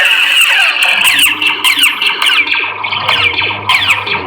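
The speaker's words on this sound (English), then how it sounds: "Now the Saber sounds pretty beefy" A KR Sabers AS2 Anakin Skywalker Neopixel lightsaber gives a loud, beefy electronic hum with swooping, whooshing swings and sharp flares, with no talking.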